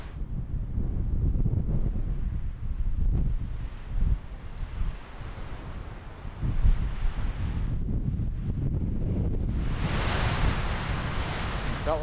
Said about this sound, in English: Felt like the wind was going to let up for a minute there, and then kind of started to calm down